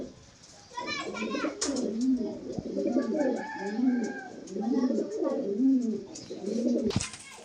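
A Madrasi flying pigeon coos in a steady run of repeated throaty, rolling calls, close and clear, with faint voices and a sharp knock near the end.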